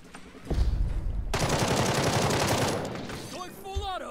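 A sustained burst of full-auto gunfire in the video game Jagged Alliance 3, dense, loud and continuous for about two seconds. A single sharp shot comes before it, and after the burst dies out a few whooshing and chirping game effects follow.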